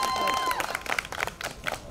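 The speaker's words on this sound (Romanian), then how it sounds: "aplauze, vă mulțumim de suflet pentru frumusețea acestui program" Brief applause and crowd noise rise under a speaking voice at a folk costume gala in Slănic Moldova, with scattered claps at moderate volume.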